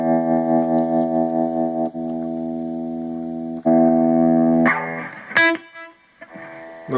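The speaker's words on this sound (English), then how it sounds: "in the other setting, this has like a tremolo on it." An electric guitar plays sustained chords through the tremolo setting of a Blackstar ID Core 10 amp, each chord ringing clearly with a pulsing wobble before changing, ending in a few quicker notes.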